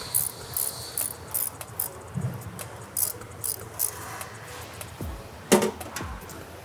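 Fasteners are tightened while installing Flush Wall FWQ100 profile tooling on an NTM SSQ II roll former, giving quiet bursts of short metallic ratchet clicks in an uneven rhythm with no voices.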